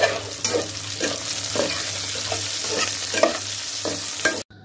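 Chopped onion and garlic frying in a pan for a cucumber and chicken curry, stirred with regular scraping strokes over a constant sizzle, close and loud, ending abruptly.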